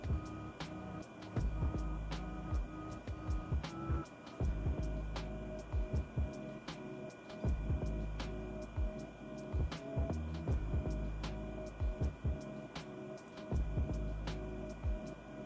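A radiofrequency facelift device hums steadily as it is moved in circles over the face, a quiet electrical drone broken by frequent soft clicks and taps, with no talking.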